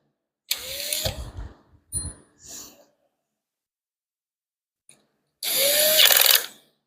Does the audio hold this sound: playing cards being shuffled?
no